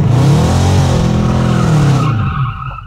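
A Dodge Challenger SRT spins its tires in a burnout, a loud close screech of tire squeal over engine roar that holds steady, then cuts off sharply near the end.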